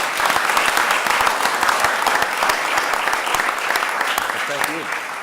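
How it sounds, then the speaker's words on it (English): A crowd at a New York governor's press event for a statewide business ad campaign gives steady, loud applause throughout, with some voices mixed into the clapping. "Another round of applause for BBD&O."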